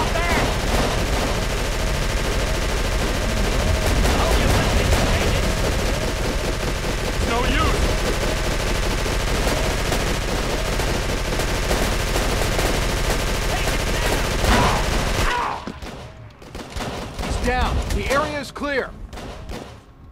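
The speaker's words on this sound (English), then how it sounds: "It's a floor-mounted automatic rifle." A floor-mounted automatic rifle fires in the Call of Cthulhu video game at a marsh refinery, with loud, rapid, sustained bursts for about fifteen seconds before cutting off, leaving scattered quieter sounds.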